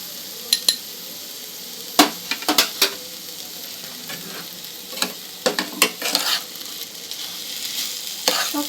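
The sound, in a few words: frying and stirring chana dal with ginger paste and salt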